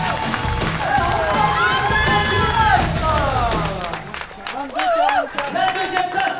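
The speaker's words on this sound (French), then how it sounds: "Alexandre Parolin, on peut l'applaudir s'il vous plaît." At a trail running awards ceremony, a crowd claps and cheers for a race winner while a voice talks over a loudspeaker, the applause rising in scattered bursts beneath the amplified speech.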